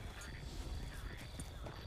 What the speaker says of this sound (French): Pardon, y'a des chevaux.